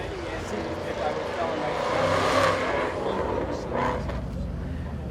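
Cars rumble and rev at a Friday night drag night cruise, a continuous engine roar that swells and passes under a crowd's chatter.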